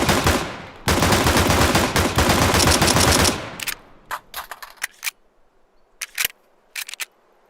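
Dual Berettas pistols in Counter-Strike fire a rapid, dense burst of loud close shots for a few seconds, then a scattering of metallic clicks and clacks trailing off into quiet.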